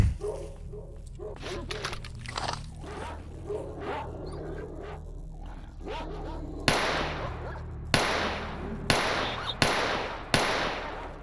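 Shotgun blasts in S.T.A.L.K.E.R. Shadow of Chernobyl, five loud booming shots spaced about a second or so apart in the latter half, following a stretch of dog yelps and scuffling.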